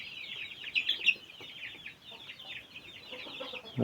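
Chickens, among them a young rooster, cluck in a busy flock with overlapping soft calls and occasional louder bursts, ending in a sudden nearer thump.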